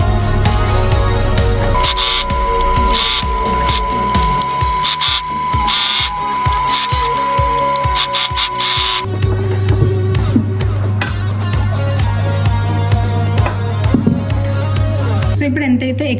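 Fabric for a peplum top runs through a sewing machine, giving a steady mechanical clatter and ticking from the stitching mechanism, with tonal music playing behind it throughout.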